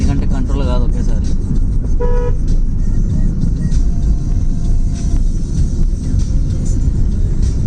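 A van horn toots repeatedly at a hill road turn while the van descends a mountain road. The honks ring out clearly over steady engine and road rumble, and a person talks throughout.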